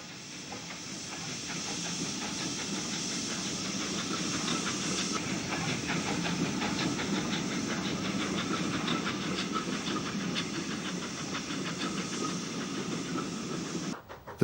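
A West Country steam locomotive and its pilot 4F number 44523 pull a southbound express for Bournemouth out of the station, steady hiss of steam and rapid rhythmic chuffing with clanking rail noise, sustained and fairly close.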